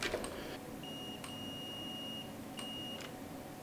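A continuity tester gives faint electronic beeps, one sustained tone lasting over a second and a shorter one later, against a steady background hum with a few small clicks.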